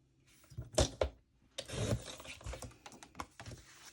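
Paper being cut for a 6x6 mini album page, with a few sharp crisp snips and rustles close by, two quick cuts early then a longer stretch of scraping and trimming, no talking.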